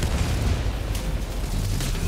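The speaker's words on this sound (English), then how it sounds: "I'll just throw a grenade in there." A grenade blast in the game Helldivers 2: a dense, continuous low rumble and roar that stays loud and close for about two seconds, with no talking over it.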